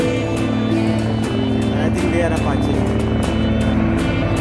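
A military helicopter at an Indian defence expo air show: a loud, continuous, rhythmically chopping engine roar that fills the whole stretch.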